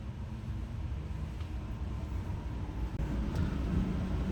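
A train passes CityLine Bush Station on the Dallas-Fort Worth rail line, a steady low rumble and rolling roar that holds at a constant level with faint metallic clicks over it.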